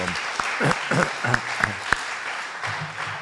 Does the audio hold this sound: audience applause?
yes